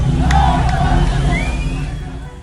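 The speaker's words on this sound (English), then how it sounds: "crowds chant slogans once unthinkable inside the Islamic Republic" Street crowd in Iran chanting slogans, a dense roar of many voices with shouts rising above a steady murmur, close and loud throughout.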